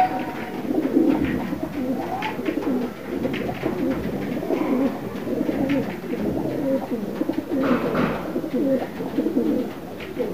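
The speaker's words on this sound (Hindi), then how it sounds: "है ये काला कबूतर," Several pigeons, including black pigeons, coo continuously nearby in Khanpur, Rahim Yar Khan, their low throaty murmurs overlapping in a soft, rolling chorus.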